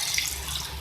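Water from a glass pours steadily into a pan of sautéed potatoes and cauliflower, a brief continuous splashing rush heard up close with no talk.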